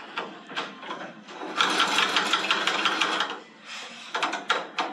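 Power tool reaming out an aircraft elevator bushing on a RANS S-21, a close, rapid rattling mechanical whir in bursts that swell and pause, loud against a quiet workshop.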